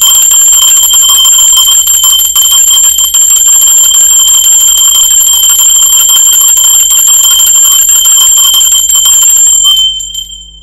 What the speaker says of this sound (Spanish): Va campana y comenzamos.